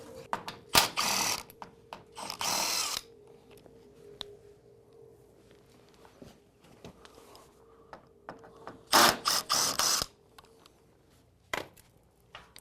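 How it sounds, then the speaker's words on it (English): Bolts on a garage door weather stripping seal are loosened with a ratchet, giving short bursts of rapid clicking separated by quiet pauses and small metallic taps. "we're gonna start taking out all these bolts"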